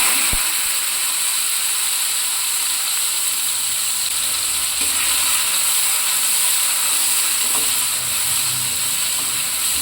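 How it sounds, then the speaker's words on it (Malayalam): Three chopped tomatoes hitting hot coconut oil in a pan, a loud steady sizzle and hiss that continues throughout with a few faint clinks, no talking. "ഇതിലേക്ക് തക്കാളി ആഡ് ചെയ്തു."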